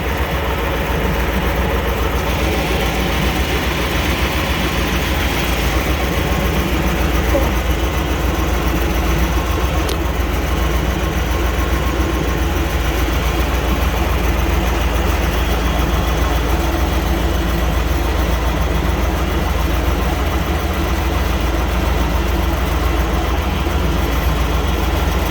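A 1998 Chevy C1500 pickup engine runs at a steady idle after a fuel filter fix, a constant low rumble with slight vibration that holds unbroken and fairly loud throughout, with no talking.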